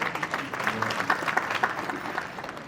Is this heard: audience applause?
yes